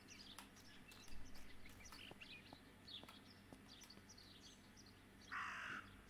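A raven caws in the video game Martha is Dead, several harsh calls rising over a faint outdoor ambience with scattered chirps of small birds, plus one louder call near the end.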